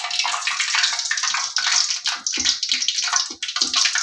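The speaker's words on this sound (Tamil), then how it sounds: "இந்த மாதிரி சடச்சடன்னு வரணும் சத்தம்." Steady crackling, spattering hiss of hot oil sizzling in a pan for frying bonda, close and fairly loud, with no voices.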